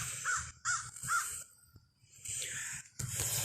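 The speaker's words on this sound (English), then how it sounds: "There's a crow over here sitting with me." A crow perched close by gives several loud, harsh caws in short bursts separated by brief pauses, heard alone outdoors on the grounds of an old state hospital.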